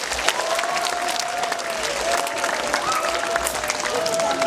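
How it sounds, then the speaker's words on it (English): A room full of elementary school children clapping together, loud and sustained, with a faint tonal hum running beneath the applause. "Can we all give Megan a round of applause?"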